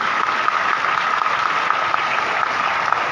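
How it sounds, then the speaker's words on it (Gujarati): A crowd claps continuously and evenly at a BAPS religious festival talk, a dense wash of applause that holds steady throughout. "જોરદાર તાળીઓથી આપણે સ્વાગત કરીએ છીએ।"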